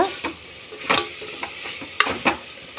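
Herbs and spices such as mint, coriander and bay leaf fry in a pan, with a low sizzle under sharp, intermittent scrapes and clacks of a spoon stirring them.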